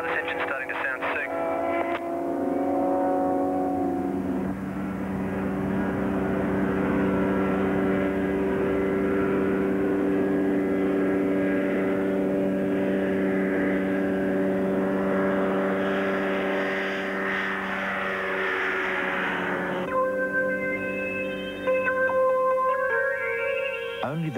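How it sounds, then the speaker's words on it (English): An aircraft engine running rough and losing power drones loudly throughout, a sustained propeller hum with shifting tones that changes character partway through, while a voice talks over it. "I'm not getting full power. This engine's starting to sound sick."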